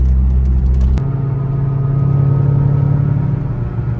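A C5 Corvette fitted with a new air intake revs loudly up close: a heavy throaty burst in the first second, then a steady, strong idle-like drone that holds to the end.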